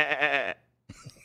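A goat of a foreign species gives one loud, drawn-out bleat close by. A short pause follows, then a few softer, muffled noises.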